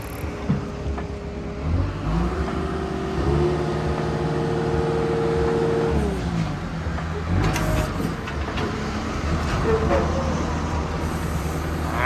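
A Caterpillar 910G wheel loader on solid tires runs close by as its arm is raised hydraulically. The engine and pump note climbs, holds at a strained steady pitch for a few seconds, then settles back to idle.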